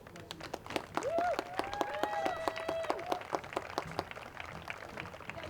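Applause for a youth soccer team at a high school boys soccer game, scattered claps from a modest crowd heard at a distance, with a whistle-like tone sliding through the middle.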